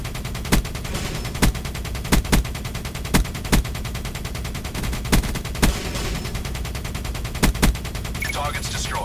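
Sustained gunfire in Call of Duty: Black Ops III, sharp shots cracking at irregular intervals over a dense, continuous roar of battle noise.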